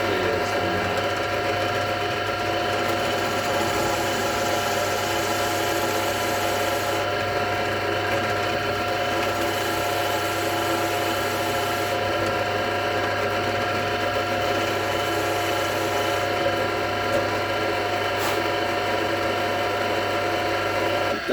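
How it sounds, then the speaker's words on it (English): A steady mechanical whir with a constant low hum runs unbroken, a drill motor spinning continuously while boring a hole in a resin-top guitar, fairly loud and close, with no talking. "let's just drill it and see if it clears"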